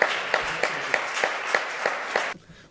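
An audience applauds an award-winning company at a sustainable development awards ceremony for accountants, with a steady crowd clapping and a few louder individual claps standing out before it cuts off abruptly.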